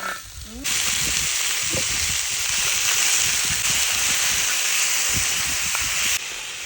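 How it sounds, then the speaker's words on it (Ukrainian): Chicken wings sizzle and crackle steadily in a hot pan on a cooking disc, a loud continuous frying hiss with occasional soft clatter and faint voice in the background. "Поки мої крильця смажаться"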